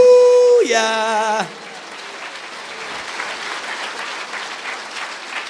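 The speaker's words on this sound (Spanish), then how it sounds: "Fuerte aplausos a Cristo Jesús" Church congregation bursts into applause after a tonal sound fades, the clapping settling into a steady, moderately loud wash that continues to the end without voices.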